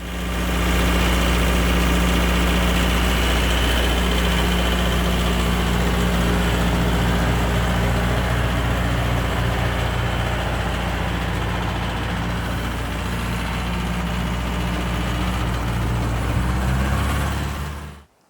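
A tractor engine idles steadily and close by for about seventeen seconds, a low droning hum with constant vibration and no voices, then cuts off abruptly at the very end.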